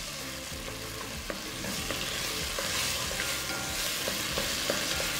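Salsa and garlic sauté in hot oil, a steady close sizzle with intermittent scraping stir strokes and small clicks throughout, no voices.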